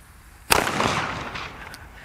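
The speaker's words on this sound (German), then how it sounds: "Es ist ein toller Böller, und wenn man es richtig reibt, dann funktioniert es auch." A Cobra P1 firecracker goes off with a single sharp, loud bang, followed by a fading rumble and echo.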